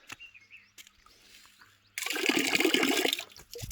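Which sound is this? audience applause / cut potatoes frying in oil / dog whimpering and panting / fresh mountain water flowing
fresh mountain water flowing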